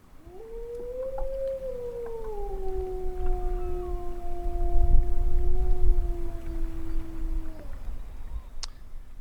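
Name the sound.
recording of a lone wolf howling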